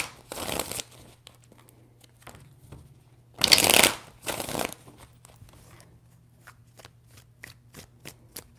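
Tarot cards are shuffled in three crisp riffling bursts with pauses between, followed by soft scattered taps and clicks, close up with no talking.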